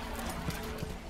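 A horse's hooves clip-clop in the video game Metal Gear Solid V: The Phantom Pain, a few soft thuds over steady game background noise, with no talking.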